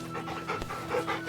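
A companion dog pants in the video game Final Fantasy XVI, quick steady breaths close by, over a faint background of game ambience and no talking.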